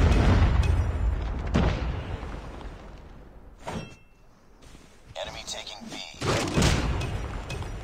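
In Call of Duty Mobile, Predator missiles strike in deep booming explosions, a couple of heavy blasts with rumbling tails and sharp bursts between quieter gaps.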